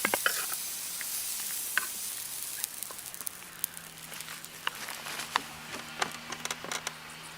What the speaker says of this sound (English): The sharp sizzle marking the start of the meal.